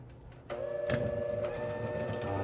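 An electric mixer switches on at low speed to mix caramel cake frosting, starting with a sudden steady motor whir that holds at a moderate, close level after a quiet moment, with no talking.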